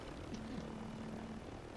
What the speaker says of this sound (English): Bunkin, I got the choppers!